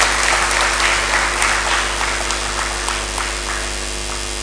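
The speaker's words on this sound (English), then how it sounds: "I think our chair deserves a round of applause at this stage." Audience applause for the chair at an inaugural lecture, a sustained, even wash of clapping from a large hall audience that fades slightly toward the end.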